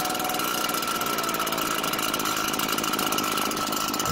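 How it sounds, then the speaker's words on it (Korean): A car engine that stalls when the throttle is pulled idles steadily while its idle speed is adjusted, giving a loud, close, continuous mechanical drone with a fine rattling texture and no speech. "적당한 속도로 엔진의 반응성을 보면서 아이들링 속도를 조절해 줘요"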